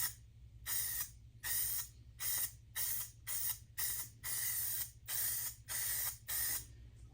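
Short bursts of aerosol spray paint laid as a light first coat on a motorcycle fuel tank, about nine hissing passes with brief gaps, over a steady low hum.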